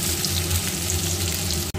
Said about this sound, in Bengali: আমি এখানে কিন্তু আলু পটলগুলো একটু লাল করে ভেজে নেব।